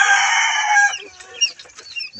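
Chickens clucking and squawking inside a cage where several birds have died, a dense loud burst of overlapping calls that fades into scattered, fainter clucks.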